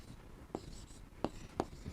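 Marker or chalk strokes on a board during a biology class sound as three sharp taps and scratches over faint background room noise.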